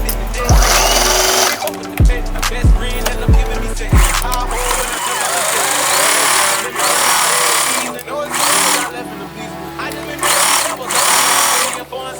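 A sewing machine stitches in short bursts, then runs in a few longer continuous passages, rattling and whirring up close, with loud music playing throughout.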